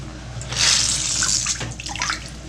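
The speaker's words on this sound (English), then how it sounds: "So after that, I just like to rinse out the sink really quickly." Water from a tap runs into a sink during rinsing, a steady close hiss and splash that swells and fades over a couple of seconds, with no talk.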